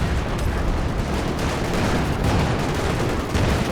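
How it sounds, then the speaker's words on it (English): Artillery shells land around a ZiS gun in a Company of Heroes 2 2v2 match, a continuous rumbling barrage of booms and gunfire with no clear pauses. "Some artillery on the Zis"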